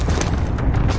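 Dense gunfire and booming blasts from the Call of Duty: Warzone video game on PS5, a loud, continuous burst of overlapping shots and rumbling impacts.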